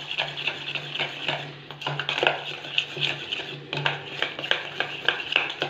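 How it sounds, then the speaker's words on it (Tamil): A spoon stirs Bourbon biscuit cake batter thinned with milk in a bowl, making steady, soft repeated scraping and clinking strokes close up with no talk. "கட்டி இல்லாமல் நல்லா கலக்கி விட்டுக்கலாம்"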